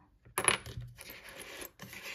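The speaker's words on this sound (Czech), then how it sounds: "tam je čínská mince" Coins, including a British pound and a Chinese coin from a small collection, clink sharply as they drop and are handled, with a bright metallic burst followed by lighter scraping and jingling.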